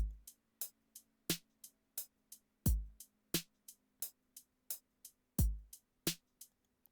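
A sparse, slow programmed drum pattern in FL Studio: crisp ticking hi-hats at a steady pulse with heavier snare hits landing every few beats, clean and dry.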